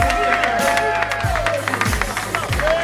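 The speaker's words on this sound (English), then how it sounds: "Could we have a round of applause for Councilmember Andy King?" An outdoor crowd at a community Old Timers Day event applauds Councilmember Andy King, with scattered clapping and cheering mixed with crowd babble and a loud voice on a public address system.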